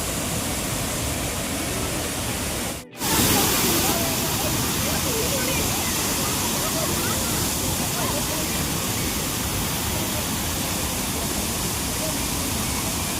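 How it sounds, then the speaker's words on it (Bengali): Roaring waterfall in Odisha, a loud, steady broadband rush of falling water that continues without a break, interrupted only by a brief dropout near the start. "জলের স্রোত বন্ধুরা দেখো এত জোরে জল পড়ছে।"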